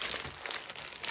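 Plastic bags crinkle and rustle as they are handled and shoved aside, a close, continuous crackling texture with irregular louder crunches throughout, no voices over it.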